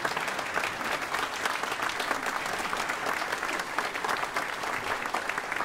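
Steady, dense applause from an audience at an open-air theatre for a singer, continuous and fairly even throughout without any talking.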